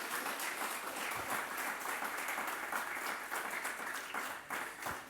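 Church congregation applauding as an offering to the Lord, many hands clapping in a sustained, dense wash, loud and steady with slight swells.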